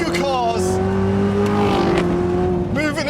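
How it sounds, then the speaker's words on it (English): A Chevrolet Corvette ZR1 rumbles with a deep, steady exhaust drone and rising engine tones, heard up close while people talk over it. "It's not as much supercharger and induction noise as it is exhaust."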